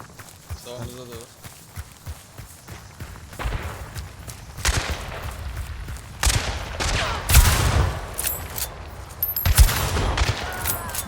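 Gunfire in the video game Hunt: Showdown, with sharp bursts of shots and impacts growing louder in the second half, mixed with footsteps and players talking.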